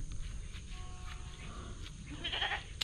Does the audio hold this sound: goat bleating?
yes